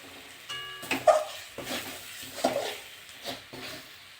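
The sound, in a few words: stirring chicken skin and potatoes frying in a pan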